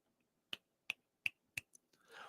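Four crisp finger snaps, spaced roughly a third of a second apart, are quiet and close. A softer fifth snap follows, then a faint rustle.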